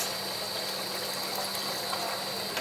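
Water pours steadily into a pot for cooking chicken biryani rice, a continuous moderate gushing stream with no talk.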